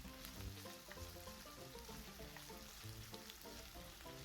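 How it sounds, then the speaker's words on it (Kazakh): Meat and onions fry in a hot pan, giving a continuous dense sizzle with soft bubbling crackle, steady and close but fairly quiet, with no voices. "Етімізді де жақсылап қызарғанға дейін қуырамыз."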